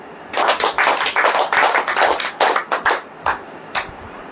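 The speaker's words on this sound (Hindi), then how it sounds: "ताली बजाओ" Congregation at a church service clapping hands together in a loud, dense burst of rhythmic claps that thins out into a few scattered single claps near the end.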